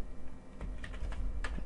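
Typing on a computer keyboard while entering text for a Minecraft sign, heard as a few scattered key clicks over a steady low background hum.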